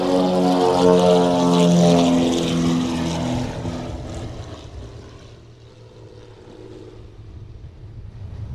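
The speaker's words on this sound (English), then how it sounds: "that was Anguilla Air Services coming in from the valley in Anguilla. A Britain Norman BN-22A Islander." A Britten-Norman BN-2 Islander twin-propeller plane comes in to land at Sint Maarten's airport near Maho Beach, a loud droning engine hum with steady tones that slowly fades as it passes, no talk.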